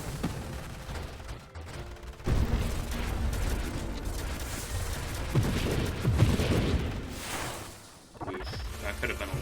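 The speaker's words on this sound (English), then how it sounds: "Now we just get to sit back and enjoy the sounds of gunfire." Bursts of rapid turret gunfire and explosive booms from a Nova Drift space shooter battle, dense and loud, with brief lulls and a voice speaking intermittently over the action.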